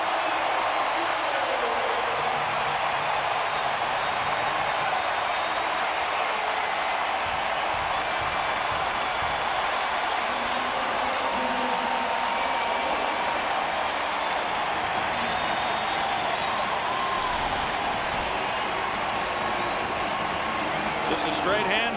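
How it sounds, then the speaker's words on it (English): Stadium crowd roaring continuously and loudly after a New Orleans Saints touchdown against the Giants in a 2009 NFL game, a dense wash of cheering with commentary talk over it. "So much for the Giants taking the crowd noise out of it."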